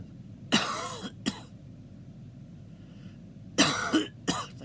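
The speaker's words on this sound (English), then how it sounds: "So I'm going to keep coughing." A person coughs in two clusters, each a sharp harsh hack followed quickly by a shorter second cough, close and loud against a quiet room.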